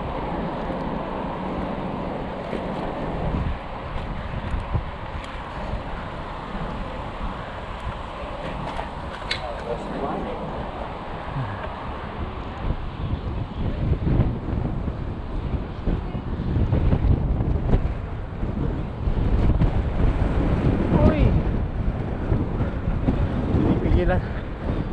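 Strong gusts buffet the microphone of a one-legged cyclist on a late-morning group ride, a continuous roaring rumble that swells louder toward the end, with someone talking intermittently underneath.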